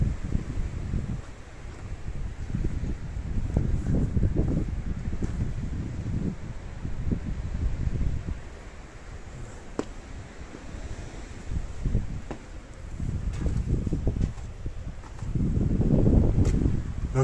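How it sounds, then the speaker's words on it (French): Gusty wind buffets the microphone in heavy low rumbling bursts, swelling and easing repeatedly over a steady outdoor hiss. "Donc désolé s'il y a du vent,"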